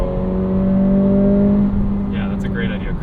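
A 2023 Acura Integra's engine drones loudly and steadily in its loud sport mode, close up from inside the cabin, with a brief burst of voices near the end.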